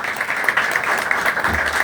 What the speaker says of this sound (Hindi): उसके लिए जोरदार तालियां बजाएंगे